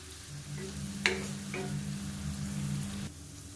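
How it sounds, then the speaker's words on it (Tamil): Paneer pieces fry in a pan, a soft, low sizzle with a couple of brief clinks or stirring touches, fairly faint and close with no voices. "இப்போ நல்லா ஃப்ரை பண்ணி எடுத்துக்கலாம் நல்லா கோல்டன் கலரில் வரட்டும் நல்லா திருப்பி திருப்பி விட்டு வறுத்து எடுத்துக்கலாம்"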